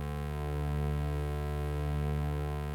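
Digitone II synthesizer holds a steady, buzzy sustained tone whose harmonics shimmer and wobble slowly under LFO-driven phase distortion, alone and fairly quiet for a few seconds.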